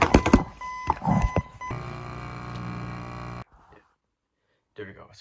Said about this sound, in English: Man, stupid alarm.